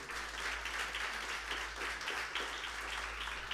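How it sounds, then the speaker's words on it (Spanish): Faint applause from a church congregation, a steady wash of many hands clapping at a distance without voices over it. "Dale un aplauso al Señor Jesús."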